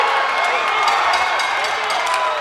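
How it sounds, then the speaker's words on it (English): A crowd at an MMA fight roars and cheers continuously, a dense wash of voices and applause that stays loud throughout without a break. "Crowd comes to life."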